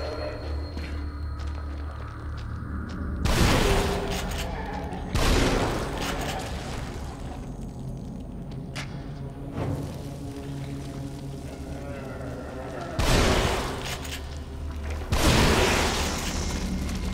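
Four heavy gunshots from the survival horror game The Evil Within boom out in two pairs, each a loud broadband burst over a low, steady game ambience with no speech.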